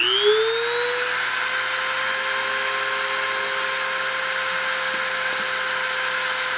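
Machine spindle spinning up to 30,000 RPM: a high whine that rises at the start, then holds a steady, loud, continuous tone with no speech.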